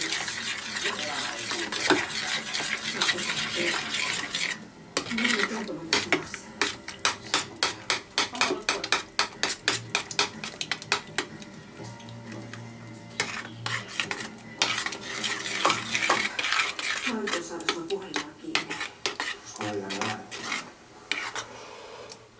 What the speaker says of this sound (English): Then stir it up a bit.